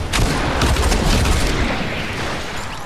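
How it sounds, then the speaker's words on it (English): Rapid blasts in the Fortnite video game erupt in a loud, dense barrage of booms and crackling bursts up close, fading slightly toward the end with no talk over them. "too many explosions"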